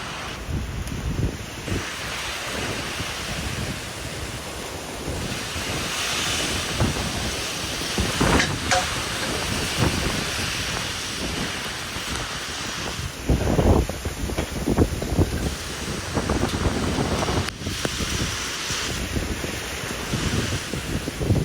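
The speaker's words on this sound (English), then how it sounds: "A lot of wind to it." Strong storm wind roars steadily and loudly through the whole stretch, rushing and buffeting the microphone, with gusts swelling now and then and no talking.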